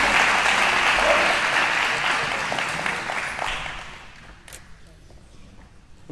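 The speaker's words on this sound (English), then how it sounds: "if we can get another round of applause for Miss Kathy McGonagall and our 2 scoutmasters" Audience applause at an Eagle Scout recognition night honoring scout leaders, sustained dense clapping that gradually thins and fades toward the end, with some murmured voices underneath.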